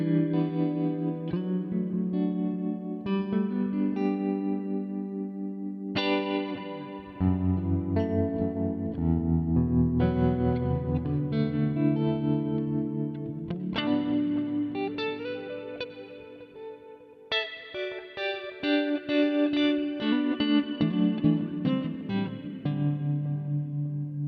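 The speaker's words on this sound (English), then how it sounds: "this is a Fender style Blues Deluxe on clean with a tremolo, a real echo," Flamma E1000 intelligent guitar through a Fender Blues Deluxe-style clean preset with tremolo, echo and modulation: a continuous played passage of chords and single notes, rich and pulsing with trailing repeats, no talking.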